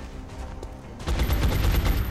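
Rapid burst of gunfire in the turn-based strategy game XCOM: Enemy Within, a loud dense volley of shots breaking in after a quieter stretch and continuing to the end.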